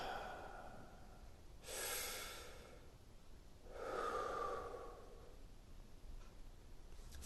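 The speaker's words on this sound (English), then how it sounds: "Take a deep breath." A person nearby takes a slow, deep breath: a soft airy inhale followed a moment later by a longer, fuller exhale through the mouth. No talking, only a faint steady hiss underneath.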